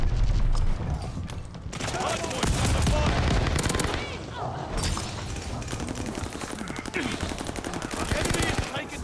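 Rapid bursts of gunfire in Call of Duty Vanguard during a close-range hardpoint match with a Marco 5 submachine gun, loud near automatic fire crackling almost continuously with brief gaps, mixed with faint game sounds.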